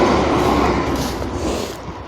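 A train passes close and loud, a continuous rumble and rush of wheels on rails that fades slightly toward the end, with no talk.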